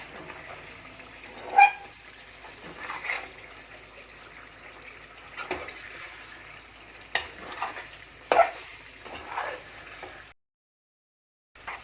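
Chicken pieces frying in a pan with water cooking off, sizzling steadily while being stirred, with a few sharper scraping clatters of the stirring utensil standing out before the sound cuts to silence near the end.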